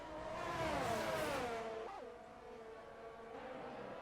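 Video-game F1 22 race cars at Silverstone, engines rising and falling in pitch as they brake and accelerate, with a short tyre squeal partway through, moderately loud and without talk.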